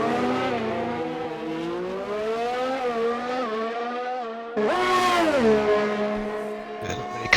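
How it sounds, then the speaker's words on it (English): Race cars in a racing video game scream past on a track in Austria, loud high-revving engines rising and falling through gear changes, with one car sweeping by close, then a brief tyre squeal. "Many cars out on the track, mostly in the pits."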